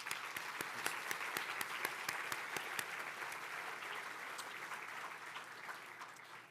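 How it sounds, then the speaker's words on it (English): Sustained applause from a crowd at a Solar Decathlon winners announcement, dense clapping filling the room at a steady level for several seconds, with a few sharper claps standing out. "so a round of applause."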